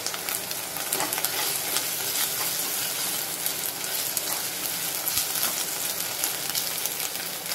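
Ginger-garlic paste fries and is stirred in a pan for Maharashtrian val khichdi, a steady close sizzle with faint scraping throughout and no pauses.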